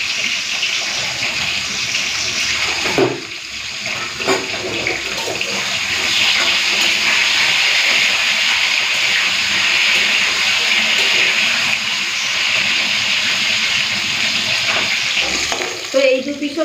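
Pointed gourd frying in hot oil in a home kitchen, a loud steady sizzle holding close and continuous with a few brief clinks and stirring knocks.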